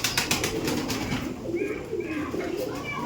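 Giribaj pigeons coo in soft, low repeated calls close by, over a steady background of flapping and rustling, with a person talking in the background.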